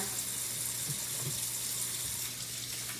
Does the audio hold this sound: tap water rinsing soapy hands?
yes